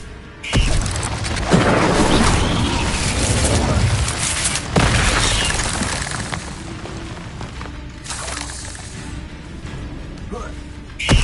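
Fiery spell blasts in a wizarding video game, a handful of loud booming bursts spread over several seconds with rumbling tails, alongside voices and busy game sound.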